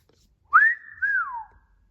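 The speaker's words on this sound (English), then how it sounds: "Aladdin whistled softly." A soft human whistle in two notes: a quick rising note that holds, then a second note that arches and slides downward, alone against silence.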